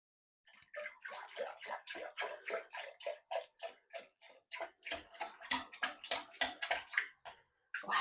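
Liquid, about 2.5 cups of it, glugs steadily from a container while being poured for a breakfast recipe, in a quick rhythmic run of bubbling gulps that carries on without a pause and grows louder toward the end.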